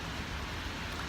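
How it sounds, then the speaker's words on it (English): Steady rain falls outside a balcony, a broad even hiss with no breaks or distinct drops across the short stretch, moderately loud and close, with no voices. "It's really raining out here today,"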